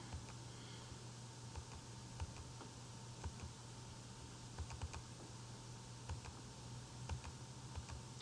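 Quiet, irregular tapping of keys on a computer keyboard over a steady low electrical hum, the clicks coming in small clusters with short pauses, distant and faint, with no speech.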